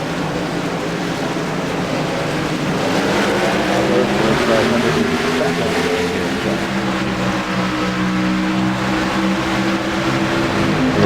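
A pack of NASCAR race cars in a racing video game accelerates at the green flag, a dense, loud, continuous engine roar with rising harmonic tones building over about eleven seconds.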